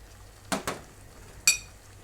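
Almonds dropped into a pot of plum chutney, giving two quick clattering taps followed by a sharp ringing clink against the pot in a quiet kitchen.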